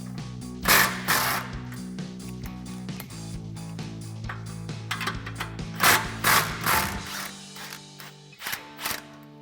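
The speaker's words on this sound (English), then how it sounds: "So I'm going to take a 15 and 16mm socket to remove this clamp." A socket wrench ratchets on exhaust clamp nuts under a RAM 1500 with 15 and 16 mm sockets. Bursts of rapid close clicking stop and start over a steady low hum.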